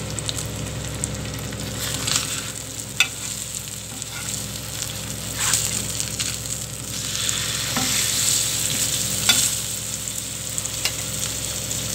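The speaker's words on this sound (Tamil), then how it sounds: "இதை நல்லா வறுத்துட்டு" Masala frying in a pan at home while fish fry and dal are prepared, a steady close sizzle and crackle with a few sharper utensil taps, no talking.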